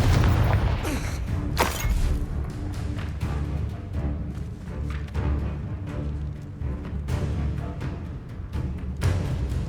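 Fire-blast Confringo spells explode repeatedly in the Hogwarts Legacy video game: dense, loud booms and crackling bursts, layered over a continuous low rumble, with several sharp blasts breaking through.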